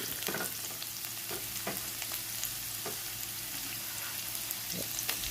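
Small onions hit hot coconut oil in a kadai, giving a steady, dense sizzle with faint occasional clicks of a utensil against the pan throughout.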